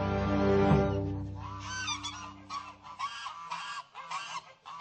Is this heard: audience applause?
no